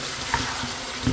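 Chicken frying in oil in a pan gives a steady, close hiss and sizzle through a short moment, without any speech over it.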